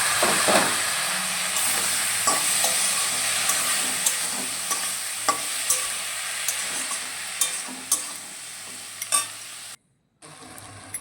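Cabbage sizzles and fries steadily in a pan with a loud hiss, punctuated by occasional clinks of stirring, then briefly cuts out near the end.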